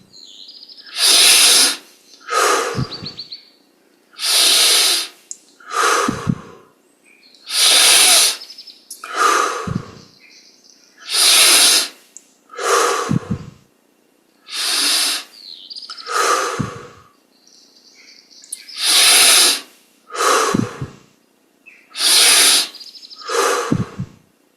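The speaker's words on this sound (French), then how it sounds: "20 grandes respirations, inspire par le nez," Deep breathing during a yoga meditation: a slow, regular cycle of about a dozen loud, close breaths, each a long airy inhale through the nose followed by a shorter exhale through the mouth, with brief pauses between.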